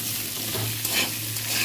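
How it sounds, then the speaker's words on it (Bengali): Potatoes frying in oil while being stirred: a dense, loud, continuous sizzling hiss close by, with a faint low hum beneath and no voices. "আলুটা ভালো করে ভেজে নিতে তুলে নেবো।"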